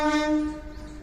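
A passing train sounds its horn in a strong, steady harmonic blast that fades after about half a second, leaving low rumbling rail noise.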